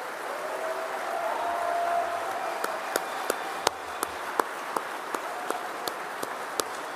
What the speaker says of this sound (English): let's give our competitors and our cadre another round of applause for a job well done